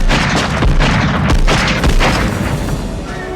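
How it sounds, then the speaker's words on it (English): A gunshot in the action film Die Hard sounds as a loud booming report, followed by several further heavy thuds and echoing rumble over a dense, noisy soundtrack. "And then we hear a gunshot."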